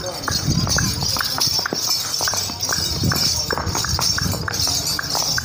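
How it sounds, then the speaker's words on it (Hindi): A mare dances at a cattle market, her hooves clip-clopping in quick, irregular bursts on hard ground, close and continuous, while people talk over the sound. "घोड़ी जनाब डांस कर रही है"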